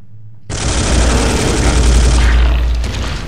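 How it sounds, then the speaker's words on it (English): A heavy gunshot blast fired at an alien in the Space Hulk video game erupts suddenly, loud and booming with a rumbling low tail that lingers and fades over a few seconds. "I can do one more shot and try and kill this alien."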